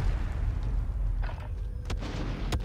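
Explosions and gunfire in the video game Call of Duty Warzone, a dense low rumble of blasts throughout with a couple of sharp cracking shots standing out near the end.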